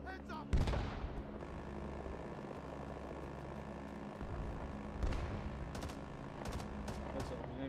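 An artillery barrage in the Vietnam War game Rising Storm 2: Vietnam rumbles as a dense, low roar with gunfire crackling through it, two heavier booming impacts standing out near the start and again midway.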